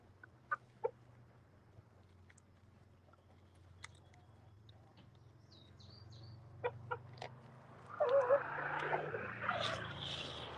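Farm turkeys cluck and call softly, with sparse clucks, a few brief high calls, and a busier burst of poultry chatter and rustling near the end over a faint low hum.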